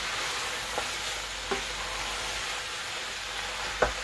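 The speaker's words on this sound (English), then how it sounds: "Give that a good stir." A pot of plant-based bean chili simmers with a steady hiss while a spoon stirs it, giving a few soft knocks against the pot at intervals.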